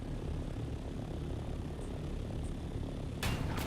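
A helicopter-like ornithopter in the game Dune: Awakening drones steadily with a constant engine roar, joined near the end by a brief burst of broadband rushing noise.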